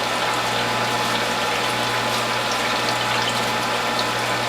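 A juicer with a zero blowback cutter runs continuously up close while making greens juice with carrots, producing a steady mechanical whir and hum with a constant low drone.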